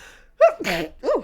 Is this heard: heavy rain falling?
no